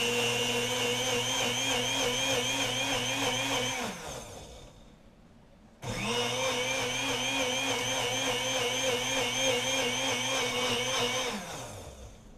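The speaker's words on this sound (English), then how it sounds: "Oh, I almost turned on the blender without the cap on it." A kitchen blender runs loud and steady for about four seconds, winds down into a brief lull, then starts again for another long whirring burst before slowing at the end.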